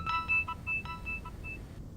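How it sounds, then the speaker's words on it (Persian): A mobile phone rings with a bright electronic tone in repeated short bursts, fairly quiet over a low background hum, stopping just before the end. "موبایلت داره زنگ میخوره"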